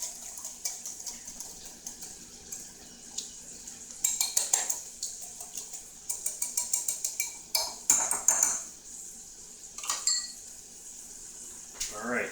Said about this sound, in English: If you have a little bit of trouble whisking the butter together, like I'm having right here